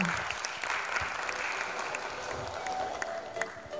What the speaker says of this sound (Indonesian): Beri tepuk tangan yang meriah untuk Bapak Daniel.